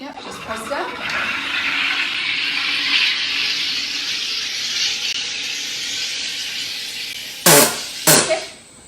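A home sparkling water maker hisses steadily for several seconds as it carbonates water, then releases two sharp, loud bursts of gas near the end.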